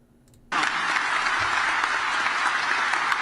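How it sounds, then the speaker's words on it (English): An audience bursts into applause for a speech, a sudden dense wall of clapping that starts after a quiet half second and holds steady and loud to the end. "Why are they applauding?"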